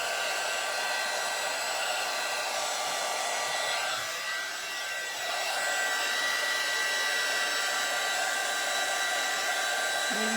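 A hair dryer blows steadily and close up while drying hot glue threads on handmade pinecone flowers, a constant loud whooshing hum with a brief dip midway.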